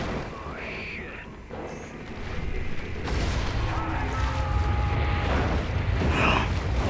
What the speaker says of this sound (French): L'explosion était un peu forte, je crois.